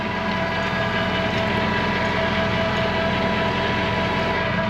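Tractor engine running during hay making, a continuous loud mechanical drone with steady rattling and hum that stays constant throughout, close up with no talk.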